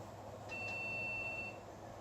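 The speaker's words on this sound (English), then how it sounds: "we got beeping" An old computer fitted with a Riva 128ZX 8 MB graphics card gives one long, thin, high-pitched electronic beep lasting about a second, clear over faint background hum.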